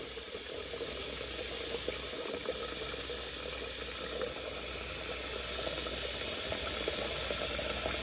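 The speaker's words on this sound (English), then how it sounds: "And I have a really big coffee pot. So you fill this up." Water runs steadily from a tap into a large coffee pot, a constant, fairly quiet hiss and splash with no talk.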